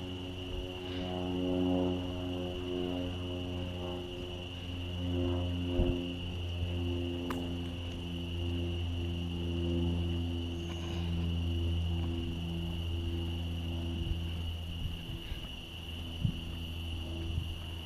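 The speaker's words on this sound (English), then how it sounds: "I got cicadas and crickets." Cicadas and crickets chirping outdoors in Dallas, a continuous layered drone of steady insect tones that runs the whole time at a low, even level, with no talking.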